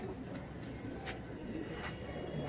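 Pigeons coo softly in a low, steady murmur of birds at a day-night racing pigeon loft, with faint background noise and no talk.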